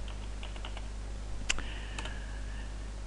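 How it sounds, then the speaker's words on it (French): Light keystrokes on a computer keyboard, a handful of quick close clicks in a short run followed by a couple of sharper taps, with a faint steady hum beneath. "Dans la barre de texte, on va taper AliExpress."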